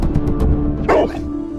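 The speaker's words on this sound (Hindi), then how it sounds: "अरे टुक्कू ये कुत्ता इतना भौंक क्यों रहा है अभी हमारे पास आकर?" A cartoon dog barks loudly and close by in a quick series of yaps, with a steady background hum underneath.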